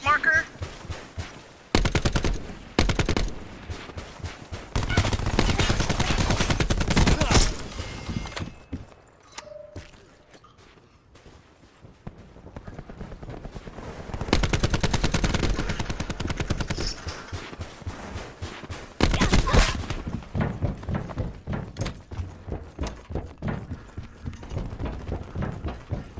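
An ICR-7 rifle fires in Black Ops 4 as repeated bursts of rapid automatic shots, loud and close, separated by quieter pauses with footsteps and talk underneath.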